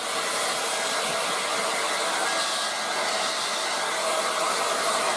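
A Revlon 1800W dual-speed hairdryer runs at full heat and full speed. It makes a loud, steady broadband whoosh with a faint whine and keeps going without change.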